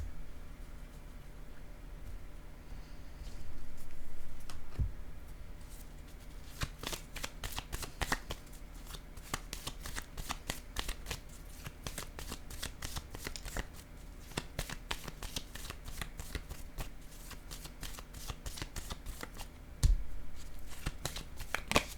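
Tarot cards being shuffled by hand, a long run of rapid close riffling flutters and soft slaps with no speech.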